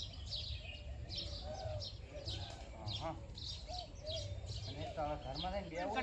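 House sparrows chirp repeatedly in quick bursts throughout, with people talking nearby under the steady chatter.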